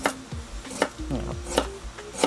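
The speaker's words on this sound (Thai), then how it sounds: "สำหรับขานี่เราก็จะหั่นนะครับ หั่นเป็นแว่นนะครับ" A knife cuts chicken feet into rings on a board in a home kitchen, with several sharp chopping knocks spaced irregularly, close up, along with light clinks and faint background sounds.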